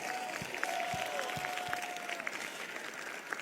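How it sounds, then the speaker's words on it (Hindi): Congregation clapping during a morning church service, a sustained wash of applause with scattered sharper claps and a faint tonal hum underneath. "ताली तो ऐसे ही बजेगी।"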